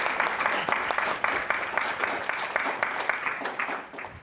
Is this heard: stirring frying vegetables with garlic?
no